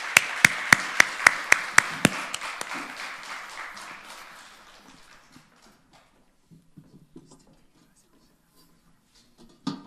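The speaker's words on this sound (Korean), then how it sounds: "우리 사랑과 또 격려를 담아서 우리 목사님 박수로 환영하도록 하겠습니다." A church congregation at a Korean choir dedication service claps to welcome the pastor, a short burst of sharp, rhythmic clapping at the start that quickly thins to scattered faint taps and near silence.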